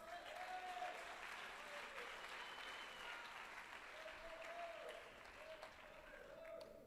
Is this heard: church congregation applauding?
yes